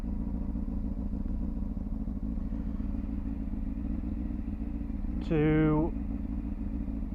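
A motorbike idles in neutral on a practice area, a steady low rumble throughout, with a brief rising whine partway through and someone speaking a word over it.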